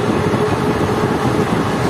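Kaviguru Express, the 13028 Azimganj–Howrah train, runs on the rails with a steady, loud rumble and a rolling wheel roar, heard from on board with no talk.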